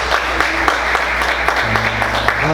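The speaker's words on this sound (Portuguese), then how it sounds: "Vamos aplaudir Jesus." A church congregation claps together during a service, a steady dense wash of applause with sharper individual claps, continuing evenly under a low hum.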